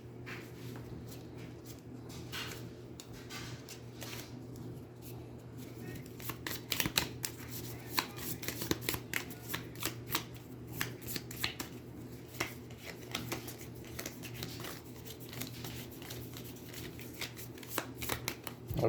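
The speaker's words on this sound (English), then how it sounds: "I shouldn't be shuffling off camera." Aeons End tabletop game cards being shuffled close by, repeated crisp riffling and snapping bursts over about nineteen seconds, with a low television hum underneath.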